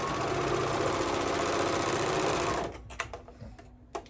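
Serger sewing machine stitching fabric for baby bell-bottoms, a fast close whirring run that stops after about two and a half seconds, followed by a few light clicks and handling sounds.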